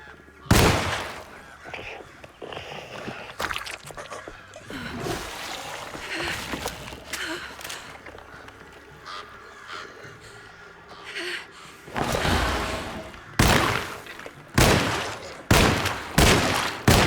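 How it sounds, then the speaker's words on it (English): Gunfire in the horror video game Alone in the Dark 2024, loud separate shots and bursts scattered through the clip over tense game ambience, with a heavy cluster of rapid blasts near the end. "We're running pretty low on ammo. We should stop shooting for a bit."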